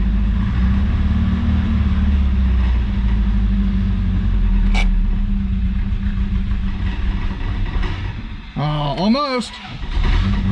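A 1983 Toyota Celica with its 22R engine runs steadily while warming toward idle, a loud close rumble throughout, a sharp click midway, and a brief wavering rev near the end as someone speaks briefly.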